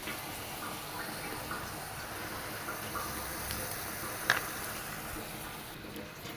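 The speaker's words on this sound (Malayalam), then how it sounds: "ഇതിലൂടെ നമുക്ക് ഈ ശർക്കര പാനി അരിച്ചിട്ടൊന്ന് ഒഴിച്ചു കൊടുക്കണം" Strained jaggery syrup poured into a pan: a faint, steady liquid flow with a soft trickling wash, and one brief clink partway through.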